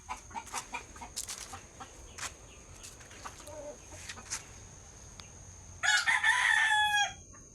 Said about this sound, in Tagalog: May manok na naman po doon.